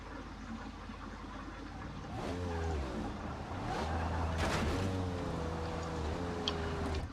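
Fast car in BeamNG with 3rd gear in focus: an engine idles low, then revs hard with rising and falling pitch through repeated sweeps, loud and close, while a voice talks over it.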